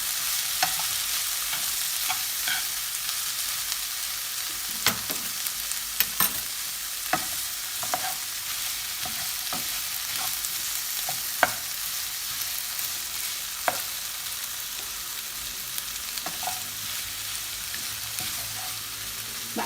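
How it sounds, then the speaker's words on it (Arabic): Broccoli and carrots stir-fried with spices in a pan, a steady close sizzle with repeated sharp scrapes and clacks of a utensil stirring and turning the vegetables, no talking. "راح اضيف البروكلي والجزر. تظلين تقلبين بيه."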